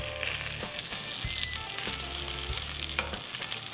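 Beer brats browning in a hot pan sizzle and crackle steadily and close up, with a few soft stirring knocks and no voices.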